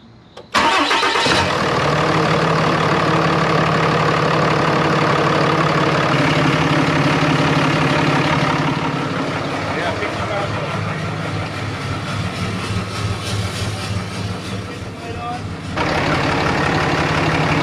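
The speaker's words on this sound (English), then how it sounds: "You want me to crank her over?" A Ram 2500 pickup's 6.7L Cummins diesel cranks briefly, catches, and settles into a loud, steady, close idle that runs on throughout, with voices talking faintly over it.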